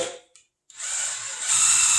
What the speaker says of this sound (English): I'm going to drill my hole.